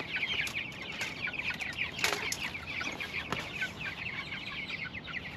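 Chickens in a backyard coop cluck repeatedly in a busy, overlapping chorus with a flutter of wings, moderately near against a soft outdoor background.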